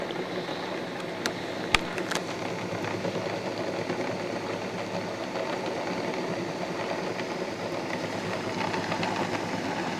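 A Bedini SSG pulse motor runs with a steady, even whirring hum at constant loudness, and a few sharp clicks come near the start.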